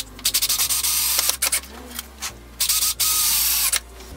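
A drill drives 3-inch screws at a slight angle into pallet wood for a folding saw horse leg, with several whirring bursts broken by short pauses and a steady low hum underneath.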